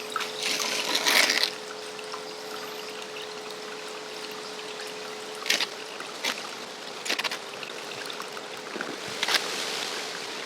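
Water runs steadily through a home gold-panning sluice with a constant trickling wash, broken by a few louder splashes and knocks.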